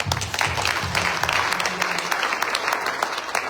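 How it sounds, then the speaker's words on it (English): A church congregation applauding loudly and steadily, a dense wash of clapping hands that continues throughout. "Let's give God a clap."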